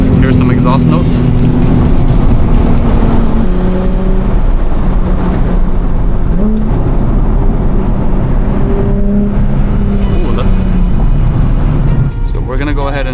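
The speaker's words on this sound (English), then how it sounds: "Let's hear some exhaust notes." A Nissan 370Z's exhaust roars loud and close while it drives winding mountain roads, a continuous engine drone whose pitch rises and falls with the throttle.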